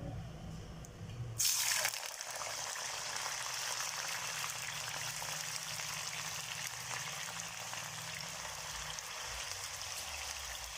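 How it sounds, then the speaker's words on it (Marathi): Potatoes frying in hot oil while a stuffed capsicum curry is being made: a steady, even broadband sizzle begins with a sharp burst of crackle about a second and a half in and then holds constant, with no talking. "आपल्याला बटाटे तळून घ्यायचे छान असे कलर येईल तोपर्यंत"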